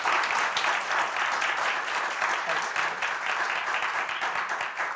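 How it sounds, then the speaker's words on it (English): An audience at a community conversation event applauds for Reverend Trakel with steady, fairly close clapping from many hands that stays even across the whole stretch. "How about a round of applause for Reverend Trakel?"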